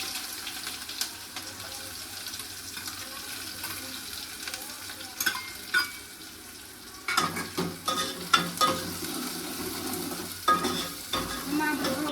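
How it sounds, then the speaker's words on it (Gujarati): Chopped onion frying in tempering oil in a pan, a steady sizzle with stirring and scraping that grows busier and louder halfway through. "વઘાર માટે આપણે એમાં ડુંગળી સુધારેલી નાખી દઈએ"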